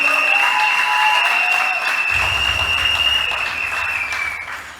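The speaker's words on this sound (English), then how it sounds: "Daniel Rashid, please give him a round of applause." Applause from a political gathering's audience rings out loud and close, layered with a steady high-pitched electronic tone that runs through the whole stretch before fading toward the end.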